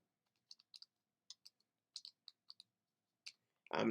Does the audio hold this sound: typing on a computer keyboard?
yes